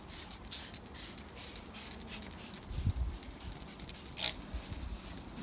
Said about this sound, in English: A few sprays in the top.